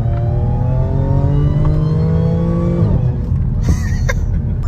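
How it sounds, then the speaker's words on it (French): Audi S5 with a supercharger heard from inside the cabin, a loud continuous engine drone with rising supercharger whine as revs climb, then easing off near the end. "On va juste vous faire écouter le petit son du compresseur,"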